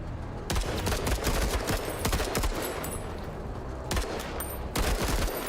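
Rapid gunfire in the Menace video game, repeated crackling bursts of shots that start sharply and run almost continuously, with louder volleys returning near the end, close and without talk.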